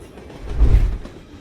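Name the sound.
train passing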